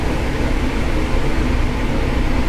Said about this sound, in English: now we get a little bit of sizzle in this pan